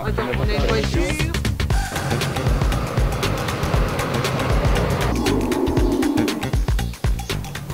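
A car passes during farm harvest filming in the countryside, a loud, broadband engine and road roar that stays close and sustained for several seconds before easing off near the end.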